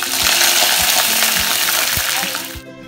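Curry leaves and fenugreek seeds hitting hot coconut oil, a loud steady sizzle with scattered crackles and pops, cutting off abruptly at the end.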